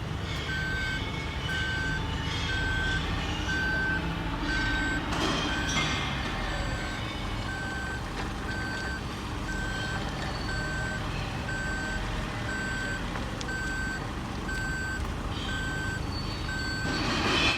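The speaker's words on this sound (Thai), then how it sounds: "นี่ไงคะรถขยะที่ไปเก็บขยะที่บ้านเมื่อกี้ เขาเอามาทิ้งที่นี่นี่เอง" A large garbage truck idles and rumbles at a Japanese waste disposal facility while a steady reversing beep repeats at an even pace throughout.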